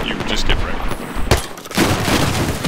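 Gunfire in the shooter game Battlefield 4 on a Silk Road domination server, with dense bursts of shots and explosions running throughout alongside talk.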